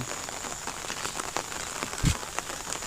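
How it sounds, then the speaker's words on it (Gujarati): Steady rain falls during a rainy spell, with a continuous patter of drops on nearby surfaces and a few sharper, closer drips standing out. "અત્યારે વરસાદ ચાલુ છે તો જોઈ શકો છો વરસાદનું વાતાવરણ છે"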